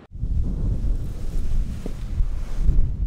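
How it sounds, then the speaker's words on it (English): Strong wind gusting along the lake shore at Grand Haven State Park at sunset, a steady loud roar buffeting the microphone with surf rumbling underneath, no voices. "it's very windy along the lake shore"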